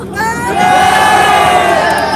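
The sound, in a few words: crowd cheering at a rally in Wigan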